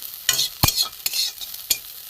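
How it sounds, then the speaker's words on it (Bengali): Neem flowers fry in a kadai as a spatula scrapes and stirs them in four or five quick, distinct strokes over a soft, continuous sizzle, close and with no voices. "আমার নিমফুল ভাজা হয়ে গেছে"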